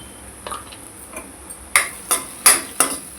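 Red chili powder and turmeric being stirred in a pan with a spoon: a few soft scrapes, then four sharper clinking strokes against the metal, close and clear, with no voice.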